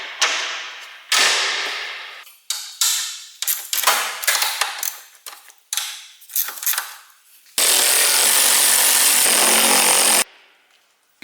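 Power tool, likely an impact wrench, undoing the 14 mm shock absorber bolts on a Mazda 3: a run of loud, close bursts of whirring and rattling, then one steady high-pitched run of about three seconds, with no talking.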